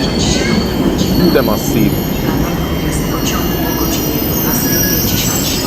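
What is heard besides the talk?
Polish express train arriving at station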